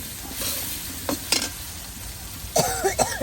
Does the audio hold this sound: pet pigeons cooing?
no